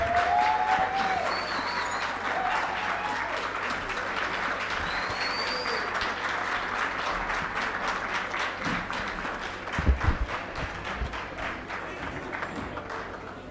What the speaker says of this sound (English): let's give them a big hand clap as they come and take their seats